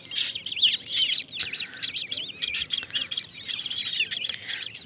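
Purple swamphen chicks chirping in a close, continuous chorus of high, overlapping peeps and trills with no pauses.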